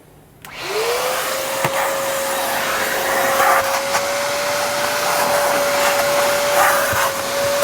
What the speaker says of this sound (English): So you want to make sure you vacuum down in there.